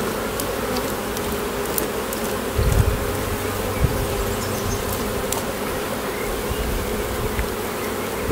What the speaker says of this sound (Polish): to zrzucam pszczołę.